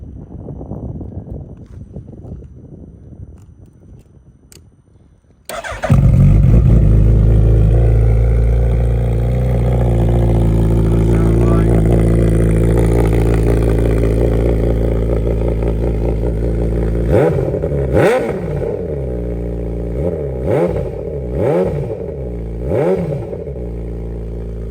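A 2023 Suzuki Hayabusa motorcycle with aftermarket exhaust tips, not run for a couple of days, cranks and fires into a loud, close idle, then gets several sharp throttle revs that rise and fall.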